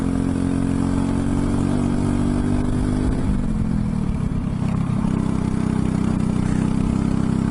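Racing go-kart engine buzzing loudly and continuously as the kart is driven around a track, the pitch dropping and then climbing again through a corner, close and unbroken, with no talking.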